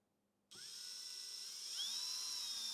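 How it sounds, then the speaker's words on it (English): Drill boring small pilot holes in the bottom of a wooden nightstand for rubber feet, a high whine that starts abruptly and holds steady, rising slightly in pitch as it runs, close by. "For these, I just drilled small pilot holes and then screwed them in."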